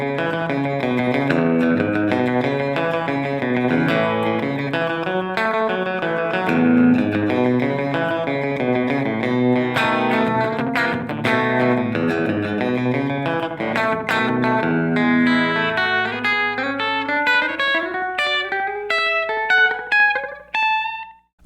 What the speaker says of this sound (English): the third type of delay is more of a slapback delay, and you get kind of that country sound, that slapback vibe.